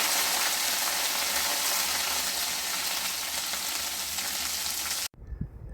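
Ginger-chili paste and asafoetida frying in hot oil for a Punjabi vegetable kofta curry, giving a loud, steady broadband sizzle that runs unbroken for about five seconds before cutting off sharply into a brief low thump.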